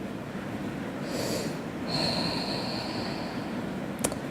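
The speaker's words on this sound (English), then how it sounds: "I'll just take 2 more breaths here." Slow, deep yoga breaths draw in and out close to the microphone, a soft airy inhale and exhale over a quiet room hiss, with no talking.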